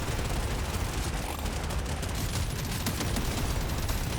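Machine gun fire in the video game Deep Rock Galactic: Survivor keeps up as a dense, unbroken roar of rapid shots with no pauses across the few seconds, loud and filling the mix with no talk over it.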